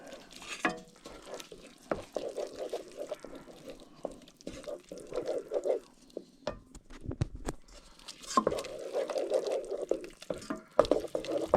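A spoon stirs a cheesy seasoning packet into rice cooking in a pot, giving close, uneven scraping and wet squelching strokes with short pauses between them.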